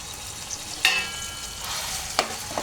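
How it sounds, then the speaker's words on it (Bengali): Onion and ginger paste sautés in a pan with a soft, even sizzle. Two sharp clinks of a spoon striking the pan stand out during a brief stir. "তো এটা একটু কষাই নেব"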